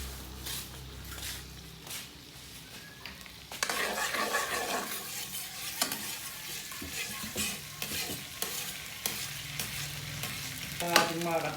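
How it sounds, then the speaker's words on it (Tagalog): Banana heart sisig is sautéed in a pan, a quiet start breaking into loud sizzling and frying with scraping stirring strokes and spatula clatter, close by and with no talk. "Gigisa mo na, Tam."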